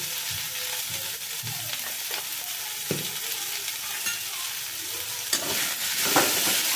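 Greens with shrimp and lentil dumplings being stir-fried on a low flame, a steady soft sizzle broken by intermittent scraping stirs of a spatula, close and with no talking.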